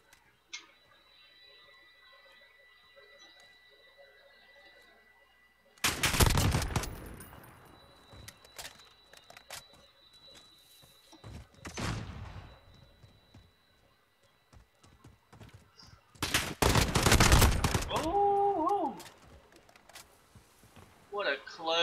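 Bursts of MP5 submachine gun fire in a competitive video game match, two loud dense volleys several seconds apart with quieter shots between, over low game ambience and talk.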